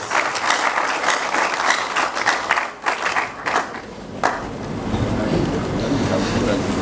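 Audience applause fills the hall at an engineering institution's induction ceremony in Kumasi, a full round of clapping that thins and dips briefly partway through, then gives way to a low rumbling murmur of the room.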